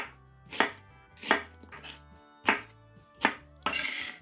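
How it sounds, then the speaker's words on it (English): A knife dices a peeled onion on a cutting board in crisp, separate chops, about six close strikes spaced unevenly with quiet pauses between. "I'm going to dice it,"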